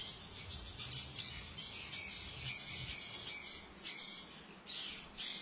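Conure parrots squawk and screech in harsh, repeated bursts over a steady noisy background, moderately close, with no talk.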